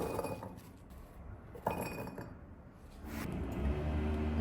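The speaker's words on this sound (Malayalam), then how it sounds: "ഡ്രൈ ചെയ്തിട്ട് നമ്മൾ ഈ ടിന്നിലേക്ക് ഇടുകയാണ്." Dried olives dropped into a tin make faint, scattered clinks and light rattles, with one sharper tap, against a low background hum.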